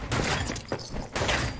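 Shotgun blasts in the video game Fallout 76, a dense run of loud, broadband booms that fill the short moment with repeated gunfire and no clear pause between shots.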